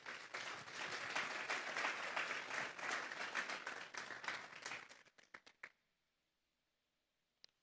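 A church congregation gives a strong round of applause that lasts about five seconds, dense and close, then breaks into a few scattered claps and fades to near silence.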